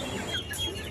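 A Japanese bantam rooster clucks briefly at a busy poultry market, with crowd noise filling the background.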